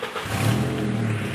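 A VW Passat B5 engine runs with a slight vacuum leak, a brief close steady idle hum with a faint rise in revs, no talk.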